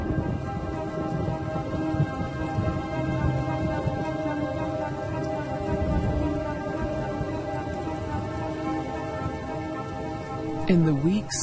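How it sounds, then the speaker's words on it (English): Heavy rain falls in a ceaseless torrent, a dense and steady hiss of drops drumming on surfaces nearby. A brief, rising call-like sound cuts in just before the end. "the rains continue to fall in a ceaseless torrent"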